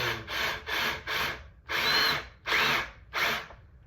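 A power drill drives screws into a skateboard in seven short bursts, each a second or less with brief pauses between, close and loud with no talking.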